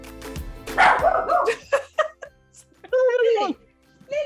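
Dogs at a house bark at a plumber outside: loud, close, excited barks and yips in bursts, ending with a whining, whimpering note.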